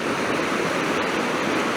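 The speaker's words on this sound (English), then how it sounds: "I'm hoping you can hear me over the noise of the water" A river outflow pours into a bay with snow-capped mountains beyond, a loud, continuous roar of rushing water that fills the whole moment without a break.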